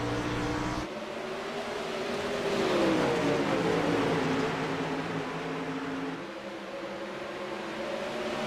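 Pack of 360 sprint cars racing in a heat at Williams Grove Speedway, a loud blended engine roar that swells as the field passes near and then fades back to a steady distant drone.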